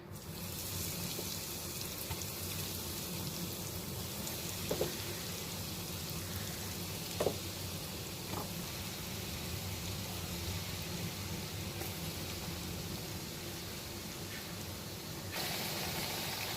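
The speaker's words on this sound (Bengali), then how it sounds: "আমি এখানে অয়েলটা গরম করে নিয়েছি, এবার একটা একটা করে এর মধ্যে ফ্রাই করে নেব।" Breaded potato snacks frying in hot oil, giving a steady, soft sizzling hiss with a few small pops, moderately quiet and continuous throughout.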